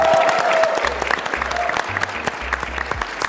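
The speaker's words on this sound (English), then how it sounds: "Round of applause for everyone here." A PAX East panel audience gives a sustained round of applause, loud and dense throughout, with a few whoops and scattered voices mixed in.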